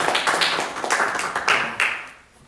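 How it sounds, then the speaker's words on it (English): A small group claps at the end of a church recording session, a few loose, uneven bursts of hand claps close by that fade out after a couple of seconds. "Round of applause."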